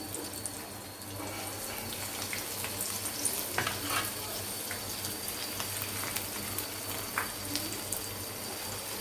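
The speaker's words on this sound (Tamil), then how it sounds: "இப்போ மற்ற ப்ரெட்டையும் நம்ம போட்டு ஃப்ரை பண்ணிக்கலாம்." Bread slices fry in a pan for bread halwa, giving a continuous crackling sizzle with scattered sharp pops and spatters, close and steady throughout with no talk.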